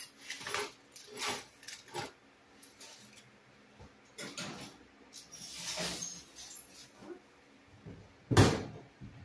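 An oven door in a home kitchen opens and shuts amid soft clunks and rattles of handling a roasting tray, a few quiet bumps spread out with one sharper bang near the end, no talking.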